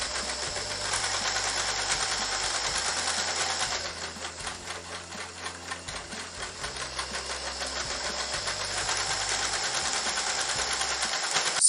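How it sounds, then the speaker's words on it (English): A sewing machine stitches a tote bag in a fast, continuous mechanical chatter, close and fairly loud, with a brief slower patch in the middle before it speeds up again. "Be confident when you're sewing"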